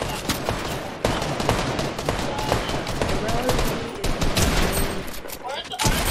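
Rapid assault rifle fire in the Fortnite video game, dense bursts of shots that run almost without pause, loud and close, with bits of player talk over them.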